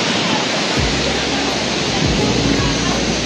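A waterfall gives a loud, dense, unbroken roar of rushing water that fills the clip, with low rumbling gusts underneath.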